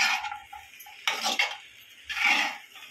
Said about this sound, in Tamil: இந்த மாதிரி மீடியம் ஃப்ளேமில் வச்சு கொஞ்சம் கிண்டி விட்டுடுங்க நல்லா கலருங்க